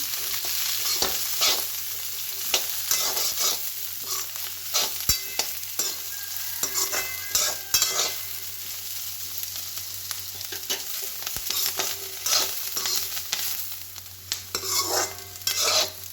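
Carrots and capsicum are stir-fried in a pan, giving a steady sizzle with repeated scraping and stirring strokes close by. No voices can be heard.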